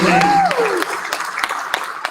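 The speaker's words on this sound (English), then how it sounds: "Give Matthew a round of applause." An audience at a school event claps for a student speaker, applause fading out over about two seconds after a brief voice at the start.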